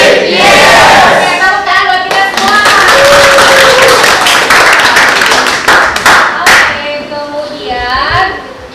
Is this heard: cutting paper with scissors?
no